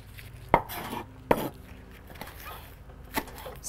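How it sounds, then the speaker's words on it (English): A kitchen knife chops garden-fresh onion tops on a cutting board outdoors. Three distinct close thuds come at uneven intervals, with soft background noise between them. "let's chop up this onion top too, because it's going to add a nice bright color to our rice dish"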